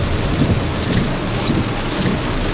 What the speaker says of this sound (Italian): La pioggia intanto continua.